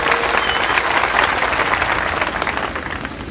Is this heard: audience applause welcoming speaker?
yes